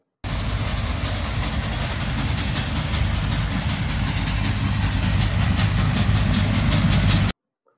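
A Nilgiri Mountain Railway heritage train climbs slowly through forested hills, its rhythmic chugging loud, close and continuous for about seven seconds, with no voices.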